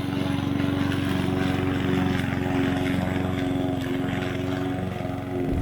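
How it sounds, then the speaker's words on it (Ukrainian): A small petrol lawn mower engine, a Vitals model, runs steadily with a constant droning hum, close by and loud throughout, with no pauses or speech. "Продовжимо тестувати газонокосарку фірми Vitals"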